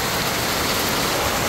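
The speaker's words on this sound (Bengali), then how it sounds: "বর্ষার সিজন তো এই জন্য এত বৃষ্টি।" Heavy monsoon rain pours down in a steady, dense wash of noise with no breaks, close and fairly loud, and no voices.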